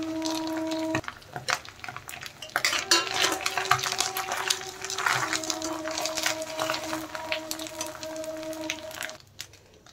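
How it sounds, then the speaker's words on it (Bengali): Fried duck eggs are lifted from a pan onto a plate with close metal scrapes, utensil clinks and pan knocks over a faint sizzle of oil, in busy irregular bursts that fade out at the end; no speech. "আমি এখন তুলে নেব প্লেটে"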